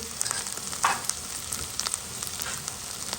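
Garlic, ginger and chili sizzle steadily in a pan, a dense close crackle with a few brief stirring clatters and pops, no voices.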